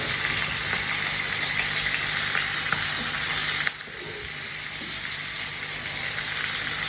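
Biryani-style pulao is stirred slowly in a pan after sugar goes in, with a continuous close sizzle that drops slightly in level partway through and then carries on evenly.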